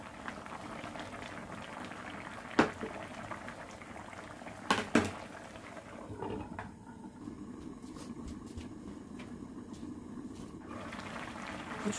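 A pot of Korean stew, a mix of leftover yukgaejang and dakbokkeumtang with perilla leaves and glass noodles, bubbles at a steady boil, close and continuous, with a few sharp clinks and knocks of a lid or utensil.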